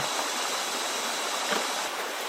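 A strong current of a stream at a traditional fishing spot, steady dense rushing water filling the whole clip with no pauses.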